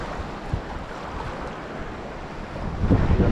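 Steady wind buffets the microphone by the shore during lure casting from rocks, a continuous rushing roar with low gusty thumps that swells louder near the end, with surf mixed in.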